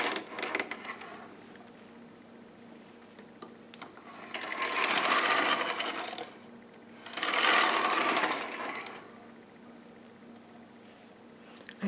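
A Toyota knitting machine runs its carriage across rows of waste yarn in two long, rushing, whirring passes with clattering needles, separated by quieter mechanical clicks and handling noises nearby.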